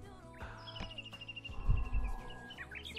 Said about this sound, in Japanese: なんか鳥の鳴き声すごくない？